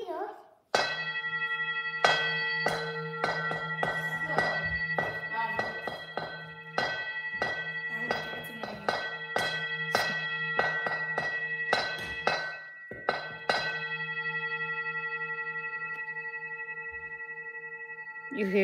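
A gong and singing bowl played indoors, repeated struck strokes ringing with long sustained metallic tones, the hits coming in quick succession, then a single lingering ring that fades out.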